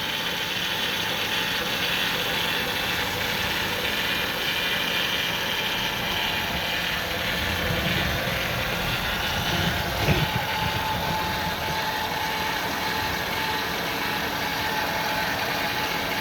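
Rough, uneven idle from the engine of a 2000 Ford Windstar SEL with a shaking alternator, heard up close as a steady mechanical ticking and rattling hum with a brief louder knock near the middle.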